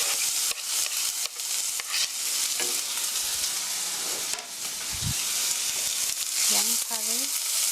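Onions stir-frying in a pan for mushroom and egg soup sizzle steadily, with scraping stirs throughout and a brief voice near the end.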